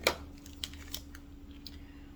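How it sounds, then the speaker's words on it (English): Scissors snip the tip of a piping bag filled for stuffing flowers in a home kitchen: one sharp crisp cut up close, followed by a few faint light clicks and rustles over a quiet background hum. "I'm going to trim the tip of my bag."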